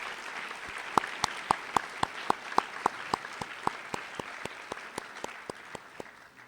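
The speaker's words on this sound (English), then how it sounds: "Please give him a very nice round of applause." Scattered applause from a small audience at a Veterans Day event at a high school, honoring the mayor; individual claps ring out in a steady, slightly uneven rhythm against a dense wash of clapping, fading gradually toward the end.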